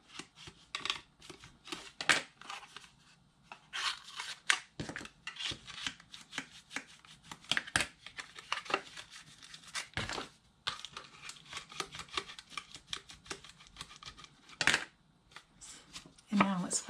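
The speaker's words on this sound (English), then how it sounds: "So I'm folding them in, and then I'll just burnish them down." Paper box lid flaps being folded in and burnished down by hand, a close, quiet run of crisp crinkles, creases and scraping rubs in irregular bursts.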